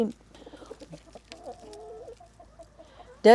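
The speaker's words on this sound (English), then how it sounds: "The chickens are drinking out of them." Chickens cluck softly and intermittently in the background near water drinkers, with a few short calls and a burst of louder noise at the very end.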